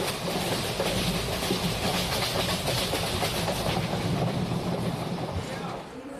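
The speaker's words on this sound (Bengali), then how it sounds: "সকাল 8:20 ট্রেন ধীরে ধীরে প্রবেশ করলো আমাদের গন্তব্য স্টেশন নিউ জলপাইগুড়ি।" A train slowly pulls into New Jalpaiguri station, giving a steady, rumbling roll with rhythmic clickety-clack of the wheels that stays fairly loud and even before easing slightly at the end.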